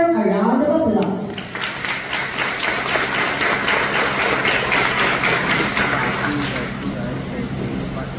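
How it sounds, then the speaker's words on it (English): An audience at a school moving-up ceremony claps, steady dense applause building after a brief stretch of talk and continuing for several seconds before gently tapering. "Please give her a round of applause."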